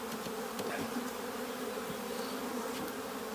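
Honey bees swarm around an open beehive during hive setup, a steady close drone of many wings with occasional louder individual buzzes passing near.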